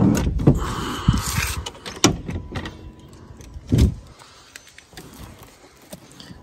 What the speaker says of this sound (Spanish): voy a echar el asiento hacia adelante.